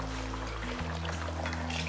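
Water pours from a mixer jar into a pot of country chicken curry, a short liquid splash and trickle over a steady low hum.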